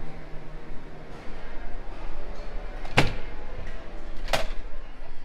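A set of double exit doors at a resort food court opens and shuts, giving two sharp clacks about a second apart over a low hum of ambient room noise.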